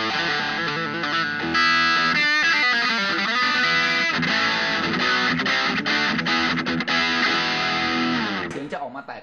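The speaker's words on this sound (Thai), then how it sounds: "คราวนี้ลองข้ามมาฟังไปทางด้านเสียงแตกนะครับ" An electric guitar through the overdriven channel of an Ibanez Tone Blaster TB15R amp plays dense, sustained distorted chords and riffs, loud and gritty, ringing out and tapering off at the end.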